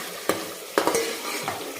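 Spoon scraping and stirring through mutton in thick, sizzling green-chilli masala in a pan, with a few distinct scrapes over a steady low frying hiss.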